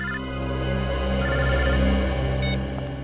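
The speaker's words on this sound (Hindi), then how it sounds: "मोबाइल कंपनी वालों का फोन था।" A mobile phone ringtone rings in bursts of bright electronic tones over a low steady hum, three short ring phrases spaced across a few seconds, close and fairly loud with no talking.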